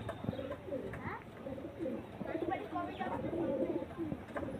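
A pair of pigeons for sale, including a red-eyed male, coo in low, repeated murmurs while someone talks quietly nearby.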